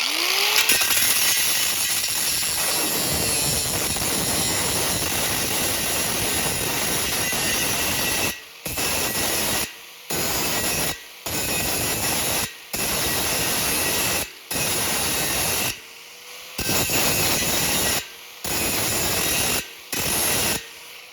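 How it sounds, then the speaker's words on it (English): An angle grinder works metal on lawnmower pull tractor bodywork: a long continuous harsh grinding run, then a string of short, evenly spaced bursts about a second each, separated by brief near-silent pauses. "I will not grind this all at once"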